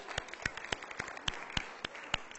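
Scattered, sparse hand claps from a small group, a handful of sharp separate claps rather than full applause, fairly quiet.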